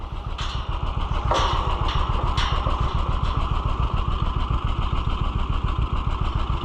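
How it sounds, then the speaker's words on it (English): A John Deere G or Oliver 1365 tractor engine idles nearby with a steady low chugging rhythm, punctuated by a few sharp metallic clanks. "Come on, tractor, come through the gate."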